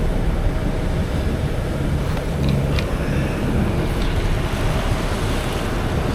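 A sailing yacht motors across the Gulf Stream, its engine giving a steady low drone beneath a constant rush of wind and sea water, with no voices.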